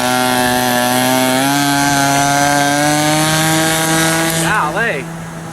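Glow engine of a 60 size Reactor RC biplane taxiing on grass, a loud, steady high-pitched buzz close by that rises slightly in pitch, then wavers and dips as the throttle changes near the end.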